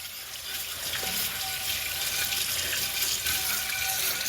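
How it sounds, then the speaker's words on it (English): Tap water running into a kitchen sink, a steady close gushing splash that continues unbroken without any talking. "Y'all hear that water is running in my kitchen."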